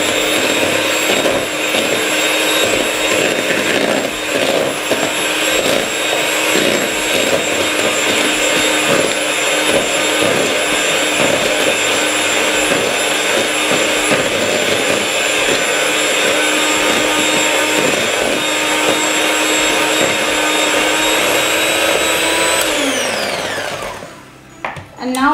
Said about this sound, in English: First I am going to add half, and I am going to whisk it again.